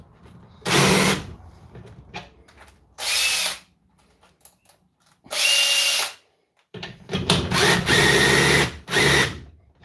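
Parkside power drill with a slipping chuck runs in several loud bursts of a few seconds each, stopping and restarting, with a rattling clatter between runs close by.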